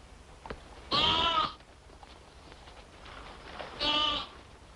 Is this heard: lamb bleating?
yes